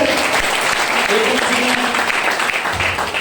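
Loud, continuous clapping from a large crowd at a motivational business seminar, a thick wall of applause with murmuring voices mixed in.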